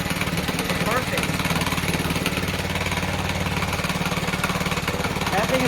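An old small engine, freshly restored, runs steadily at close range with a rough, constant mechanical drone and rapid firing pulses throughout, no one talking over it.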